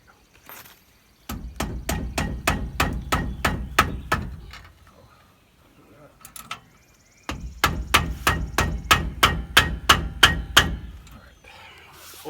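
A hammer strikes repeatedly while a car's parking brake is being changed, two rapid runs of about a dozen sharp, loud metallic blows each, separated by a short pause, close by.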